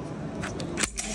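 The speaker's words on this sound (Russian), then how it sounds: "передернем затвор, нажмем на спусковой крючок и удивимся" A rifle trigger is pulled at the ProHunt 2024 hunting exhibition, giving one or two sharp mechanical clicks of the action close to the microphone. A faint murmur of the crowd fills the hall behind them.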